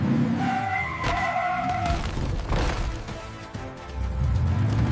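A cartoon monster truck spins its tires and revs on a greasy track, a squealing, skidding engine roar with rising whine, loud and close, without talking.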